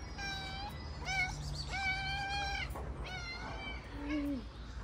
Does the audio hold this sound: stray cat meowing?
yes